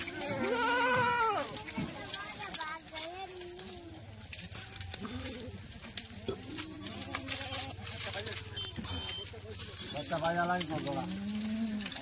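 Kathiyawadi goats bleat repeatedly, their wavering cries overlapping with people talking nearby in a busy outdoor setting.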